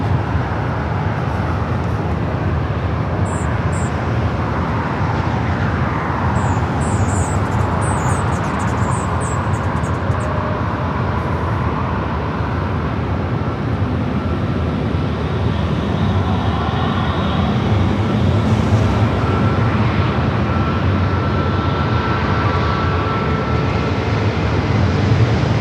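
A JetBlue Airbus A321 jet roars at LAX, a broad sustained engine rumble that swells and holds loud throughout, with faint bird chirps and roadway traffic mixed in behind.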